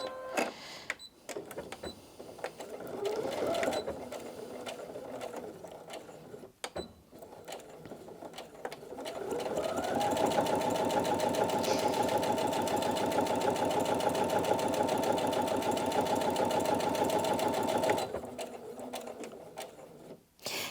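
Brother Innov-is NV2700 sewing machine stitching through eight layers of denim, a steady loud mechanical whir with rapid needle clatter that runs continuously for several seconds, preceded by softer handling noises.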